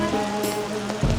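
Rain falls on a camping tent during a solo camping trip: a steady, close patter drums on the fabric, with a faint humming tone underneath and a low thump near the end.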